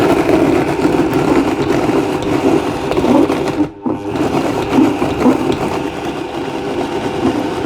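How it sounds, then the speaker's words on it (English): A Vitamix blender grinds Brussels sprouts and berries into a thick nicecream. Its motor roars loud and steady throughout, with one brief dip partway through, and no one speaks. "with the Vitamix, when you're blending up these solid components, like for instance the Brussels sprouts"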